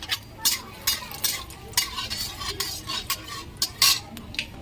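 Cumin, dry red chillies and bay leaves frying in hot oil for a country-style chicken dish, heard as a soft sizzle under brisk, rhythmic metal scraping strokes, close and fairly loud.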